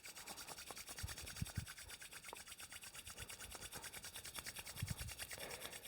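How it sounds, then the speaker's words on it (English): Palms rubbing briskly together to build heat during a yoga session, a soft, quiet rhythmic swishing friction repeating steadily throughout with no talking. "You can bring the palms together, rubbing them, generating heat."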